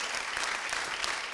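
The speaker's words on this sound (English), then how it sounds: "we get to clap for that right now, really loudly" Loud applause from an audience at a town hall on restoring democracy, a short burst of dense, vigorous clapping that stays strong throughout.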